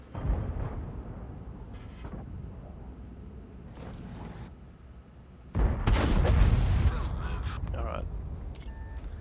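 A World of Tanks Object 907 fires its tank gun: a sharp, loud blast with a rumbling tail stands out midway, with fainter earlier reports and a voice talking over the battle.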